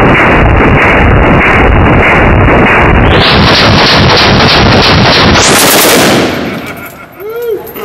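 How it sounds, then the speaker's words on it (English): An AK rifle firing full auto outdoors, a long, very loud continuous stream of close shots with wind buffeting the microphone, ending in quieter rustling after the burst stops. "Full auto AK."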